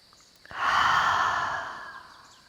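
One long, deep breath pushed out through the mouth during a calm yoga practice, a soft breathy whoosh that swells and then slowly fades over about two seconds, close up in a quiet room.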